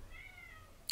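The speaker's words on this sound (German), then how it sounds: "schreien meine Katzen nach mir." A house cat gives one short, thin meow at close range, quiet and alone, ending in a brief sharp click.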